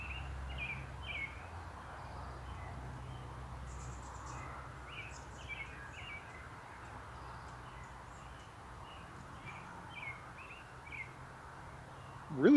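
Birds chirping and calling outdoors in short repeated bursts over a steady low hum of highway traffic, with a faint insect-like buzz in the background.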